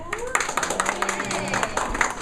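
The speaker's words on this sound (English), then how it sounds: "It's polite applause." Polite audience applause at a live comedy or theater show, a modest round of steady clapping from a room full of people, fairly even and not very loud, with some crowd murmur mixed in.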